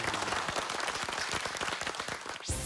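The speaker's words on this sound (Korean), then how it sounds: "여러분 다시 한번 참가단 여러분께 큰 박수 부탁드립니다" A Korean TV studio audience applauds the participants of a health show, dense continuous clapping filling the whole stretch at steady volume, cut off abruptly near the end.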